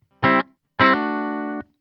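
A dry electric guitar signal through a Hotone Verbera reverb pedal, with no reverb mixed in: a short, gritty, distorted note, a brief pause, then a longer sustained note that cuts off cleanly with no tail.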